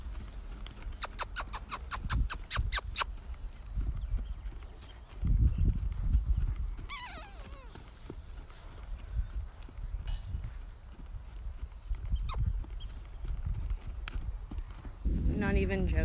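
A horse on a horse ranch in Israel clip-clops with rhythmic hoof strikes, close and fairly loud, mixed with other rustling and short bursts of sharp noise while people talk over it.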